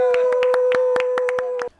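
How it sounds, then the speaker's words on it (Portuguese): Sparse, sharp hand claps at a birthday celebration, about ten evenly spaced claps over a steady sung or held tone, close and fairly loud, stopping abruptly at the end. "Uma salva de palmas"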